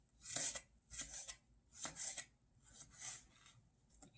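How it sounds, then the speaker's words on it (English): A sharp knife slicing through grape tomatoes on a cutting board, five distinct crisp rasping cuts at a steady rhythm, quiet and close with no talking. "Just about cutting up my grape tomatoes."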